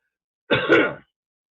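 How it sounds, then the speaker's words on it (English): A single short, close throat clearing, a rough guttural rasp lasting about half a second, surrounded by silence. "cough like that where I've got to clear my throat"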